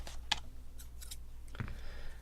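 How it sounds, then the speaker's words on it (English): A few quiet snips and clicks of scissors cutting packaging, close by, with faint rustling of the packaging in a quiet room. "Now I probably will need scissors for this."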